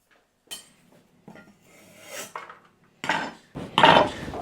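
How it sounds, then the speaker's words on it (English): A knife slices garlic cloves and red chillies on a board, giving a few scattered scraping and tapping bursts that grow louder toward the end, close and without speech. "I'm going to peel a few cloves and thinly slice those and add them in."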